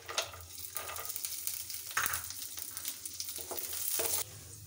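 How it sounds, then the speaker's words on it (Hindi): Peanuts and cumin seeds frying in oil in a pan, a steady close sizzle with stirring scrapes and a few sharper pops, no voices. "इसमें हम डालेंगे अच्छे से धुले हुए मूंगफली दाना, जो इनको भी हम फ्राई करेंगे"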